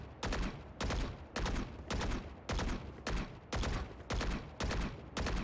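Gunfire in a video game plays as regular bursts of rapid automatic shots, each lasting about half a second with short gaps between them, dense and steady at a moderate level, with no talking.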